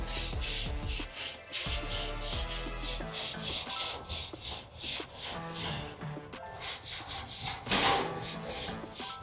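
A Grillaholics bristle-free grill brush scrubs across a grill grate in steady back-and-forth strokes, a close, raspy rhythmic scraping that keeps going without pause.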